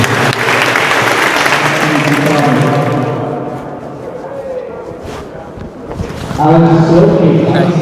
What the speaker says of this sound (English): give yourselves a massive round of applause for victory